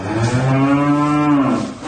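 A single long cow moo from one of New Zealand's farm cattle, loud and close, with a steady low harmonic call lasting nearly two seconds and no voices.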